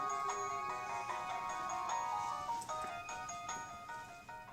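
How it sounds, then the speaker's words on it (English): A passenger's mobile phone rings in an airport arrivals area, a bright melodic ringtone of repeating tonal notes playing steadily and fairly loud for several seconds with a faint murmur beneath. "passenger's mobile phone has gone off several times"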